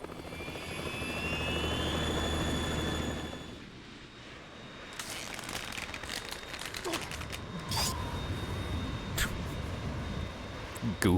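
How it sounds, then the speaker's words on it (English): Harrier jet in Metal Gear Solid 2, a loud steady engine roar for the first few seconds that fades, then returns amid game action sounds, sharp bursts and rumble. "It's the Harrier."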